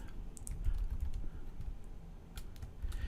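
Rapid typing on a computer keyboard, a close, continuous patter of soft key clicks with uneven rhythm and no talking.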